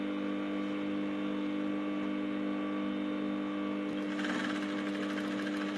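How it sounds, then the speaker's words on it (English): A sewing machine runs steadily while stitching boning lines on a corset with bra cups, giving a close, even mechanical whir that turns busier and rattlier near the end, with no talking. "I'm not adding any extra fabric for the boning lines. So I'm just stitching them."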